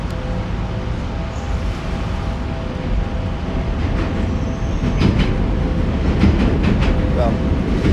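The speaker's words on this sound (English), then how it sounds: "you could hear the train" A train rumbles beneath Rockefeller Center in New York, a steady low roar with faint clattering and a few high squeals toward the end, heard from street level amid city noise and background voices.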